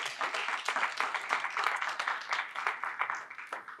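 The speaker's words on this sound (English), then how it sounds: "I'm just going to stop and clap for that right now." Hands clapping at a live panel event in a museum, a steady, dense patter of claps, moderately close, continuing evenly for several seconds without speech.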